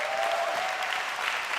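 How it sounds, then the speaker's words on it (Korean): A church congregation claps for a volunteer during a university ministry service, a short dense burst of steady applause from a crowd with a faint tone running beneath it. "우리 박수 한번 해주세요."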